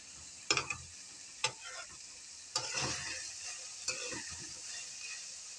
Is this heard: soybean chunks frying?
yes